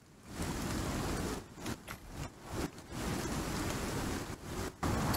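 Steady hiss of heavy rain pouring down in the video game Icarus, continuous and fairly loud, with a few brief dips in intensity.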